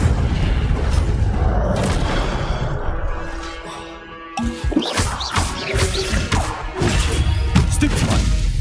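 The Incendio fire spell cast in Hogwarts Legacy lands as a booming, crashing burst of flame amid continuous loud combat noise, with thuds and smashes trailing after the main blast.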